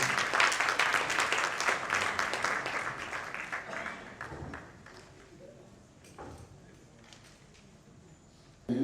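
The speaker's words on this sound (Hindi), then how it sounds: "ऐसे मौके पर तालियां बजनी चाहिए।" An audience at a book launch and mushaira claps loudly, dense applause that thins out and fades over several seconds, leaving scattered claps and quiet room noise before a sudden sound at the very end.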